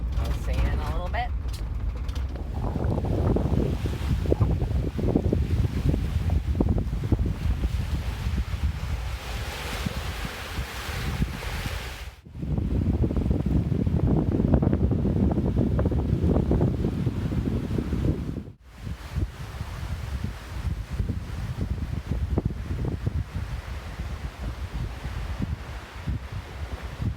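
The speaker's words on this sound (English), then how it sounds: "I'm gonna be right here for this nor'easter" Nor'easter storm wind in the Moosehead area, roaring steadily and loudly across the microphone in a constant broadband rush, broken by two brief dropouts.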